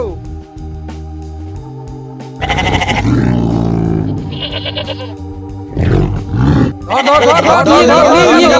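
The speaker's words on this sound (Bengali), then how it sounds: "এই শোনো সবাই, বাঘ আসছে কিন্তু" Loud cartoon tiger roars and growls burst out in a busy, layered mix, with goats' bleating cries and voices over a steady musical background.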